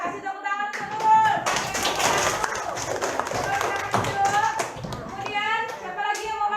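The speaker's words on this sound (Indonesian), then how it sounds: "kasih tepuk tangan untuk Nurul." A short burst of classroom clapping for a student after her presentation, sharp hand claps and taps mixed with children's voices and a teacher speaking over and around them.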